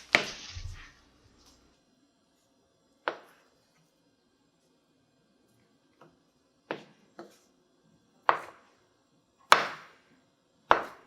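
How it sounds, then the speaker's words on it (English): Cold butter is chopped with a knife on a cutting board, about seven sharp, isolated chops spaced irregularly across near silence, the later ones louder and close up. "I'm gonna just chop it up and microwave it for about 30 seconds."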